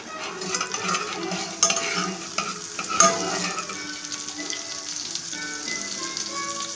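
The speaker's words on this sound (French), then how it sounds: "on fait bien fondre notre beurre" Butter melting in a pan while being stirred, a steady soft sizzle with a few clinks and scrapes of the utensil against the pan, close and moderately quiet.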